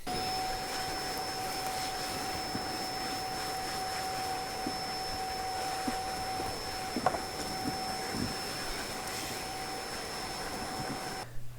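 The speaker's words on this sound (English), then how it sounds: "we'll get the hoover, give that a bit of a clean up" A Hoover vacuum cleaner runs close by, cleaning freshly laid cork on an N gauge model railway board. It gives a loud, steady drone with a constant high whine and brief clunks as the nozzle knocks the board.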